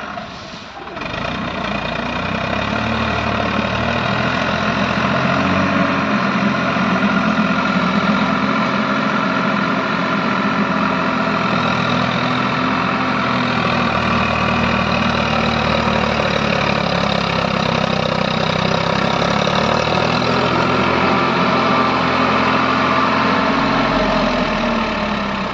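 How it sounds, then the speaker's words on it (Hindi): A Farmtrac 60 tractor drives a 20-year-old Shaktiman 6-foot rotavator, producing a loud, close, continuous engine drone with a steady low throb that holds level for the whole stretch. "शक्तिमान का रूटावेटर है, 20 साल पुराना, 20 साल पुराना रूटावेटर है, 6 फुट रूटावेटर।"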